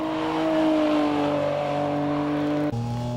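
Honda NSX lapping Tsukuba circuit on a dry surface, its engine note climbing steadily under hard acceleration before an abrupt gear change drops the pitch, heard loud and close from onboard.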